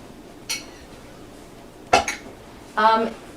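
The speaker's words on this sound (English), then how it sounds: "So I'm going to go ahead and dump them in here." Chunks of potatoes and carrots dumped into a pot in a home kitchen while making creamy soup, giving three separate clattering thuds and rattles, the last the longest, with no talk.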